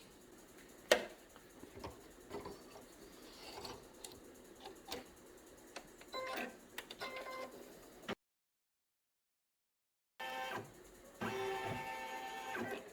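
An embroidery machine stitches the finishing border on fabric for a unicorn comfort blanket, with rapid mechanical ticking and clicking, a few sharper knocks, a short silent break, then the stitching resumes more densely.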